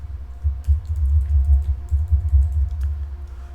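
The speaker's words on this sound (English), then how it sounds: "let me type a new password" Quick clicking keystrokes on a computer keyboard while entering a new password for a Palo Alto firewall, a short close-up burst of light, irregular taps over a low background hum.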